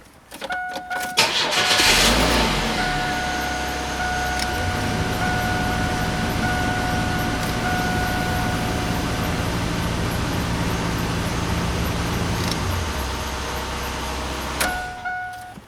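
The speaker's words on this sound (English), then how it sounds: "I have to start the car." A car engine cranks and catches, then settles into a steady, close idle hum that runs for several seconds before cutting off.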